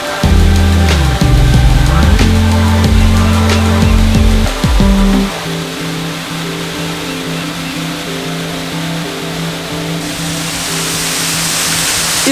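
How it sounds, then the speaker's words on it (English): Waterfall at Canto Lampo in Bali, a constant hiss that sits under loud tonal music for the first few seconds, then carries on alone as a steady broadband rush. "setting up here just in front of the waterfall"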